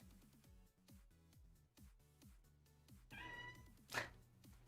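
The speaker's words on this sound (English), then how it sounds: "That was my cat." A house cat meows faintly, a drawn-out call near the end, over a steady rhythmic beat playing in the background.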